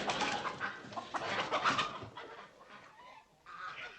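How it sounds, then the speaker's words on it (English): A sitcom sound effect of a flock of chickens cackling and clucking in a hotel lobby, busy and overlapping, loud at first and then thinning out with brief quieter gaps. "Just some chickens cackling in the lobby."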